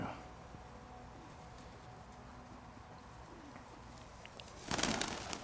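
Pigeons cooing softly outdoors against a steady background hiss, then a sudden louder rustling burst near the end as birds take off and flutter their wings.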